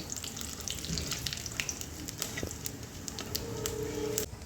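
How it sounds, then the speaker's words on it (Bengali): Bay leaf, fennel and cumin tempering frying in hot oil in a pan for potol korma, with a steady close sizzle and crackle and scattered sharp pops, moderately loud and alone. "সম্বার দিয়ে দিচ্ছি তেজপাতা। এখানে আছে মৌরি, সাদা জিরে দিয়ে দিচ্ছি। মশলাটা একটু ভেজে নেব।"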